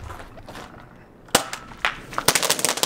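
A homemade firework launcher gun fires a firework, giving a sharp pop over low outdoor rumble, followed by a rapid crackle of smaller bangs.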